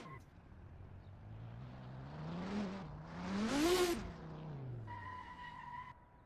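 A BMW drift car on a practice run at a drift competition at Okayama, its engine revving up in rising and falling sweeps that climb to a loud scream near the middle, with tire squeal mixed in.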